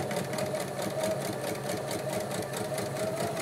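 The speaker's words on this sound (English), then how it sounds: "And I'm going to sew around the edge now." A sewing machine runs steadily as it stitches around the edge of a handmade craft tag, giving a continuous, close mechanical whir with a fast, even rhythm and no pauses.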